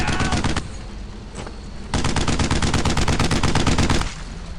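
Loud rapid machine gun fire in the video game Brothers in Arms: Earned in Blood, with a fast rattling burst, a brief lull with a lone shot, then a longer sustained burst before easing into background noise.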